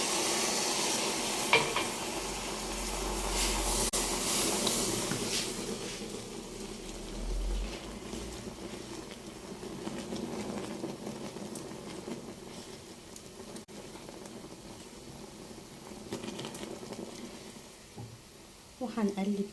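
Boiling water poured into sizzling caramel for toffee, a loud hiss and bubbling burst followed by steady sizzling and stirring against the pan, with a person talking over it.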